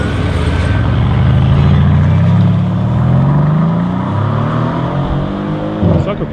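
A Mercedes C63 AGS engine revs loudly and close by, its deep exhaust note rising and falling through a sustained run before a sharp blip near the end.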